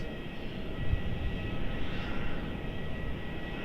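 A Boeing 787 Dreamliner passes at Melbourne Airport, a steady moderate jet roar that swells slightly mid-pass and holds at a distance.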